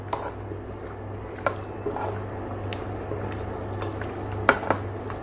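Almonds and cashews roast in caramelised sugar in a pan, with a soft steady sizzle broken by a few scrapes and clinks of a utensil stirring the nuts, close and fairly quiet.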